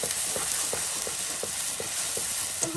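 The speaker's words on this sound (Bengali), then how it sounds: "এই মশলাটা কষানো হচ্ছে" Chilli and turmeric spice masala sautéing in a pan, a steady hiss of frying with soft periodic scraping strokes from a stirring spoon, close and continuous with no voices.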